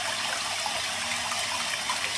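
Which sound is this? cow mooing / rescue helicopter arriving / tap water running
tap water running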